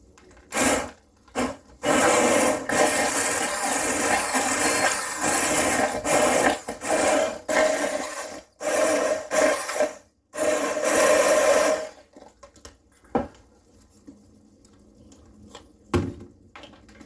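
A blender purees cooked split yellow pea and red lentil dhal in loud, pulsed whirring bursts of varying length, stopping and starting repeatedly before falling quiet near the end.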